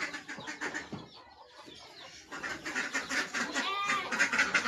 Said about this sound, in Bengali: এইদিকে হাঁস মুরগি এখন